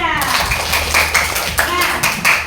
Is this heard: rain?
no